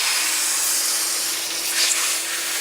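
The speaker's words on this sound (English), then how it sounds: "I'm also going to vacuum the seat while I got the vacuum on." A vacuum cleaner runs over a car seat during detailing, giving a steady, close airy whoosh with a slight swell near the end and no voices.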